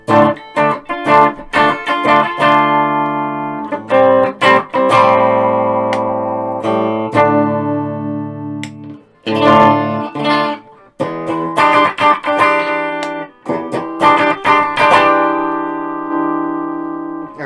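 Yamaha Pacifica 611H electric guitar, humbucker in the bridge split, played through an amp with reverb: struck chords and picked notes ring out loud and close, each sustaining with a washy tail before the next strum.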